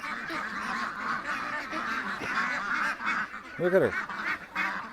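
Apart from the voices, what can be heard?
ducks calling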